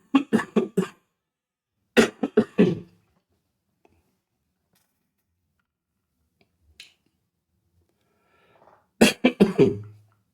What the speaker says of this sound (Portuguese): Aproveitar para dar uma tossida.